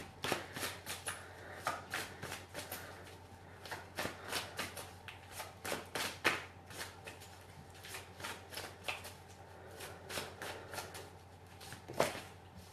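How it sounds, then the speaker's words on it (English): A deck of cards being shuffled over and over, close and fairly quiet, with repeated riffling bursts at a steady, unhurried rhythm. "Sometimes I just like reading the comments and shuffling the cards"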